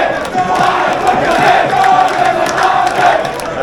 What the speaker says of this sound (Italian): Sono i cori dei tifosi della Giordania e i tifosi del Bahrain